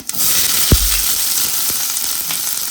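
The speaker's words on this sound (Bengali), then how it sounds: "তো দিয়ে দিলাম জিরা" Cumin seeds dropped into hot oil for a Bengali pabda fish curry, a loud bright sizzle that bursts up with a low thump and keeps crackling steadily, close by with no talking.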